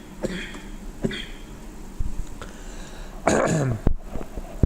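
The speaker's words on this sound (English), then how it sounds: "I do have coughing" A man with a cough clears his throat and coughs a few times, with a louder harsh burst near the end, close and alone without speech.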